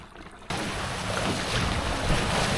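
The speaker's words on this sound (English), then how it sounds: "The wind's picking up." Steady roar of wind and rushing water aboard a Hobie Cat 16 catamaran under sail, which starts abruptly after a quiet half second and continues as a loud, broadband rush up close.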